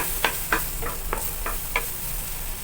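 Chopped ginger sizzles in a little butter in a pan for chicken curry, a constant hiss broken by a series of sharp spoon taps and scrapes at a fairly even pace, with no voices.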